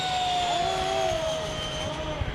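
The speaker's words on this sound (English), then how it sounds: "Okay, here comes Jim in B-17 with Mr. RC Sound on board" A radio-controlled model B-17 bomber flies overhead with a steady, droning engine whine that shifts slightly in pitch as it passes, fairly distant and continuous with no talk.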